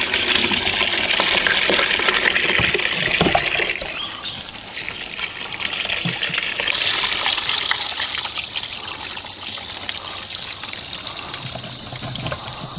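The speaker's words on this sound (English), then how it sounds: "What I'm going to do now is just drain it all out. And I'm just going to drain it straight onto the table." Brine drains from a jar of olives cured for four years, pouring and splashing straight onto a table in a loud, steady gush that eases into a softer trickle.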